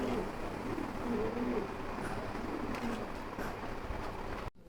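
Pigeons coo softly and repeatedly amid a steady broadband hiss, with a faint low rumble underneath; no voices are heard.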